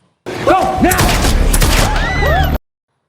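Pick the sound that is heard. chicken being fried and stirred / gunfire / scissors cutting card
gunfire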